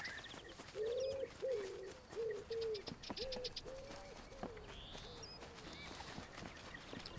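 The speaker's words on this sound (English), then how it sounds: "Dude, I think I never heard so many birds, like animals in real life." In Alba: A Wildlife Adventure, a dove coos in a repeated series of low calls, joined by high chirps and trills from other birds over a steady outdoor ambience.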